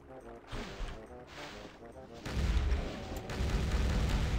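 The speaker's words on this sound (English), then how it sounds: "So the cannon's like a machine gun?" Rapid cannon fire in the Doom Sigil Pirate Doom mod, with booming blasts rattling off in quick succession that grow louder and denser midway, layered over game music and a voice talking.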